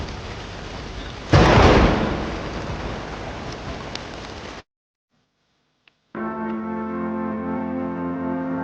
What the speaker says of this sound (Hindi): उस रात गांव में बहुत तेज बारिश और बिजली कड़क रही थी।